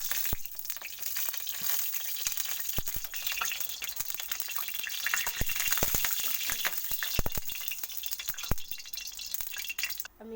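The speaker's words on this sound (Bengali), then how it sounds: "কেন আমার কড়াটা তেতে গেছে, আমি হচ্ছে কিছুটা তেল দিয়ে দেবো।" Oil heating in a hot kadai gives a steady, dense sizzle with scattered sharp crackles and pops. It runs evenly for the whole stretch at a close, moderate level, with no voice over it.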